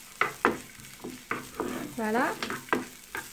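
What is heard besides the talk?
shallots sautéing in oil in a frying pan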